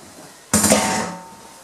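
Drained spaghetti drops into a pan with a single sudden metallic clatter and a short splashing hiss that fades within about a second, with no talking.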